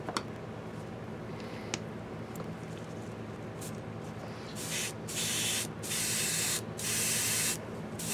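An airbrush sprays skin tone paint on a Reaper miniature in several steady hissing bursts, growing longer and stronger toward the end, with faint ticks and clatter between them.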